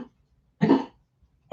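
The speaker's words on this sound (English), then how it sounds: "I'm hearing back that coughing and all that." Two short, harsh coughs from an older man, one in the middle and another starting at the end, separated by near silence in a quiet room.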